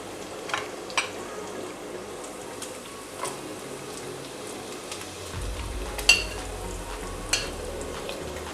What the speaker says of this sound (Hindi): गाजर को भी हम हल्का फ्राई कर लेंगे तकरीबन 1 मिनट के लिए।